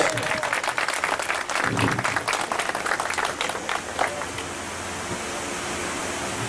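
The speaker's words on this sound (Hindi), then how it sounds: "रवि जी के लिए खुले मन से तालियां" Applause for Ravi ji at a graduation day ceremony at Shafa Home, an alcohol and drug rehabilitation organization: an audience claps heartily for several seconds, then the clapping thins into a wash of crowd noise and brief talk.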